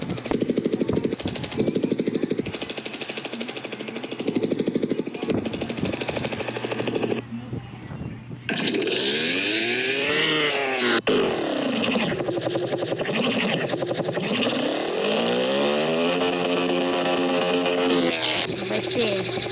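A motorcycle in a video game running with no exhaust fitted, a harsh buzzing engine drone that rises and falls through revs, swelling into loud sweeping whines in the latter half with brief dropouts.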